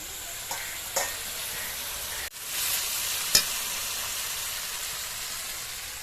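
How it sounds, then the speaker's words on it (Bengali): Bottle gourd and shrimp curry sizzles steadily in a pan, a sharp burst of hissing steam marking water poured in, then a loud continuous frying hiss with a small clink; no one speaks. "তো এবার আমি জল দিয়ে দেবো"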